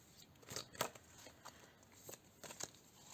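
A deck of affirmation cards is shuffled by hand, giving faint, close papery riffles and soft flicks in a few quick bursts.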